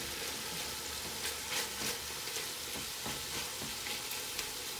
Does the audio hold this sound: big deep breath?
no